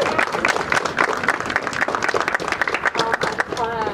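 A crowd gives a round of applause for the mayor at a community gathering about an 11-year-old boy choked by police, dense steady clapping with voices and cheers mixed in throughout.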